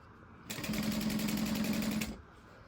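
A sewing machine with a walking foot stitches a handbag in one steady burst of about a second and a half, a fast even mechanical whir with rapid stitching pulses, close and clear.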